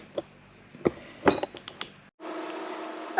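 Kitchen cleanup after cooking crispy tacos: scattered clinks and clatters of dishes, glass and cutlery come in close, irregular bursts, then a steady rush like running tap water takes over near the end.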